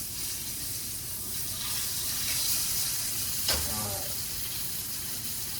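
Steak sizzles steadily in a hot pan after being flipped, a close, continuous hiss and crackle with one brief knock partway through and no talk over it.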